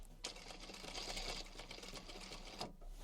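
A sewing machine stitches a box cushion cover in a steady close whir of rapid needle strokes for about two seconds, starting and stopping cleanly against a quiet room.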